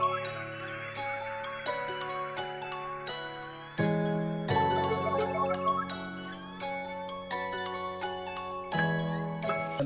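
Melodic loop pitched up 200 cents, bright bell-like synth notes and sustained chords repeating in a steady pattern, with the phrase restarting partway through, moderately quiet and free of speech.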